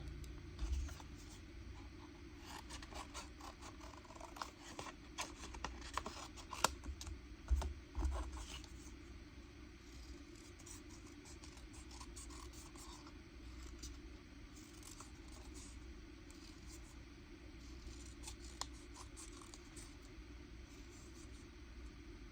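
Scissors cut out paper pieces for a junk journal, giving faint, irregular snips and scratchy rustles spread over a quiet background hum, with a cluster of slightly louder snips in the middle.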